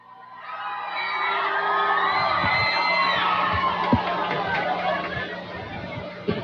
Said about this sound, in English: A rousing cheer that I'm sure carried through the microphone by the myriad of Southwest cheerleaders.